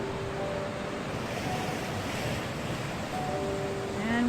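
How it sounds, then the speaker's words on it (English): Lake Superior waves roll onto the beach at Stony Point in April, a steady, broad wash of surf with gusting wind buffeting the microphone and no pause between breakers. "The beach at Stony Point, April 17th, 2018, and the waves are fantastic."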